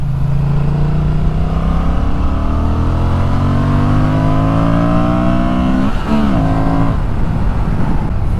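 A Honda motorcycle engine on a riding circuit, close and loud, rising steadily in pitch through the gears with a sharp shift and brief dip near the end, then pulling again.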